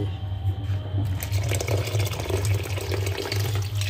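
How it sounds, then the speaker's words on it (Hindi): Wheat grains are washed by hand in water, giving a continuous, close sloshing and swishing with steady agitation and no speech. "ये हमने इसके अंदर पानी डाल दिया, अब हम इसे वाश कर रहे हैं।"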